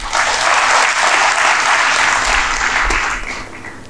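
An audience at a motivational lecture in Sambhajinagar claps in sustained, dense applause, loud and even before tapering off slightly at the end, with no speech over it.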